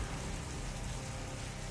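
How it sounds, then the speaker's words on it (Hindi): Dense, steady hiss of heavy rain falling in the hills at Karnaprayag, continuous and even throughout with no distinct pauses. "यहाँ अचानक मौसम बदलने से तेज बारिश होने लगी"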